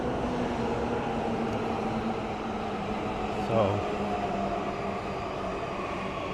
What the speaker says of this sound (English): Now we have another Yamanote line train passing.